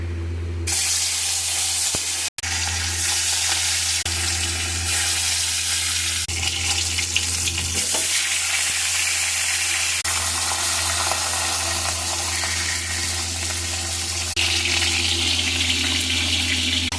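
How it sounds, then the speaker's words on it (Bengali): Onions frying in hot oil in a pan with mustard seeds for a katla fish posto curry, giving a steady, close, continuous sizzle with no pauses and no voices. "পেঁয়াজটা অল্প ভাজা হয়েছে"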